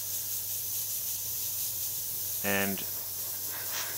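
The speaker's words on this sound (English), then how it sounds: "spraying that over all of those areas that we've just completed with that yellow-white mix" An airbrush sprays Createx tequila yellow candy paint over a yellow-white base coat with a fire template, giving a steady, soft, continuous hiss, while a voice briefly speaks midway.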